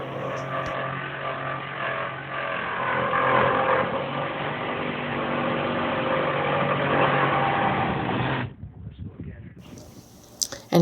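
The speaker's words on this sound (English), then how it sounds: "this is my dad and I cutting it in half with my Sawzall" A Sawzall reciprocating saw cuts an antique cupboard in half, a loud steady buzzing drone for about eight seconds that cuts off abruptly, followed by scattered knocks and handling noise.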